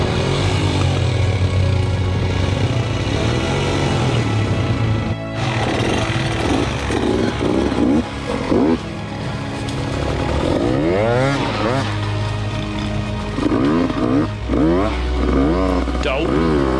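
An enduro dirt bike revs hard with wheel spin in a gully, its engine droning loudly and rising and falling in pitch throughout, with a sharp cut near the middle and voices faintly under the noise.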